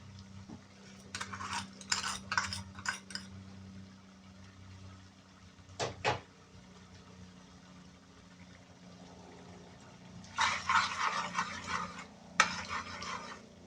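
A spoon stirs a butter garlic mixed seafood dish in a pan, with bursts of scraping and sizzling at the start, a single clatter midway and a longer busy stretch near the end, over a quiet background hum.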